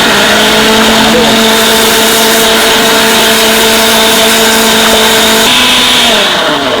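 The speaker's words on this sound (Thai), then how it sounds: "ต้องเปิดเครื่องปั่นเอาไว้" A loud, steady motorized whir runs throughout, holding a constant pitch before shifting slightly near the end, like a kitchen blender running.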